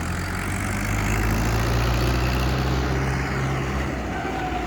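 An old tractor engine idles at a steady, low, rumbling drone with a constant throb, heard up close and alone for several seconds.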